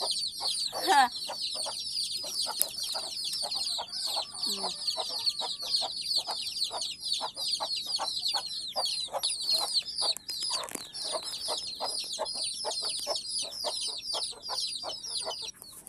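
Chickens cluck continuously at close range inside a coop, a busy overlapping chatter of many native chickens with a brief squawk early on and no talking.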